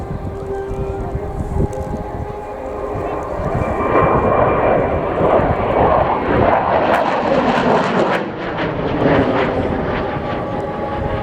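A Sukhoi Su-27 Flanker jet roars loudly past at an airshow, a sustained, swelling engine roar that builds to a peak mid-pass and then eases slightly, with no voices.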